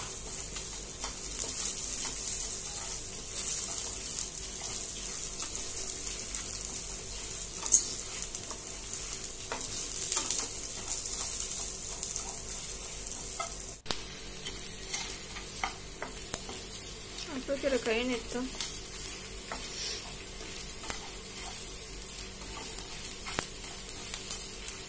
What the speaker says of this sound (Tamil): லாஸ்ட்டாக அரிசியும் போட்டு நல்லா வறுத்து எடுத்துக்கோங்க.